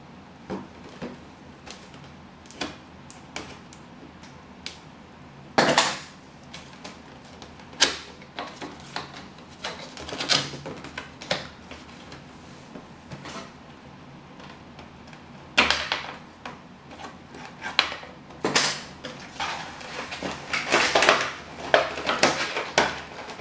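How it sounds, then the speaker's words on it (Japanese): Cardboard packaging and plastic being handled while a Kamen Rider Nadeshiko Ichiban Kuji prize figure is taken out of its box: scattered sharp rustles, taps and crinkles close to the mic, bursts growing busier toward the end, no talking. "では箱からちょっと開封していきたいと思います"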